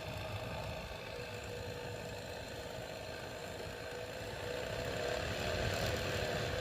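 A faulty blower motor in a Pontiac Torrent or Chevy Equinox whirs on low speed with a steady, faint droning hum and slight rattling vibration, swelling a little toward the end.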